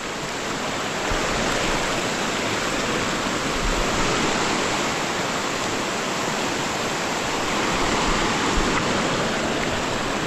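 Rushing water of a river that splits into two branches flows steadily and fills the air with a constant broad roar, close by and unbroken.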